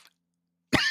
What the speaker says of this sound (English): I don't always cough when I say his name.